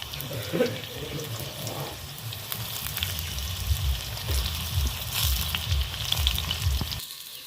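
Okra (bhindi) fries crisply in a pan, a steady close sizzle with bubbling crackle running throughout, dropping away abruptly at the very end.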